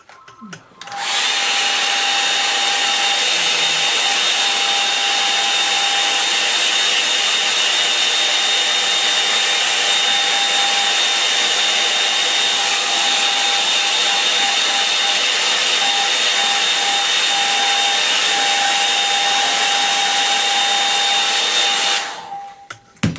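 A hair dryer blows on a freshly painted snowy landscape artwork, a steady loud whine and rush of air running nonstop for over twenty seconds, switched on and off at either end.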